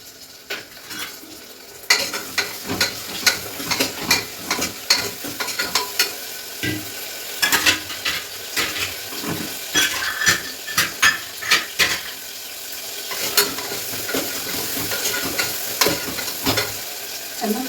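Green chilies and tomato frying in a pan while a utensil clatters and scrapes against the metal in irregular clusters of sharp knocks over a steady sizzle, close and loud.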